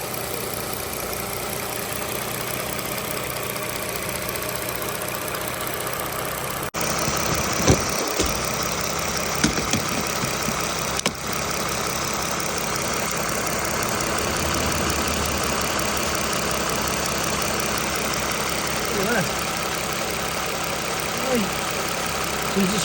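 A Toyota Aurion's 2GR-FE V6, suffering an oil leak, cranks and catches partway through, then settles into a steady, close idle with a faint ticking under the hum.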